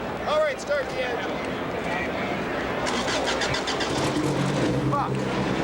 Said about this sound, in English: All right, start the engine.